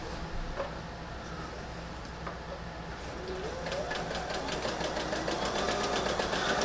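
A sewing machine stitches a stocking seam with a quarter-inch foot, at first idling quietly and then running in a fast, even mechanical whir with a steady rhythmic patter close by.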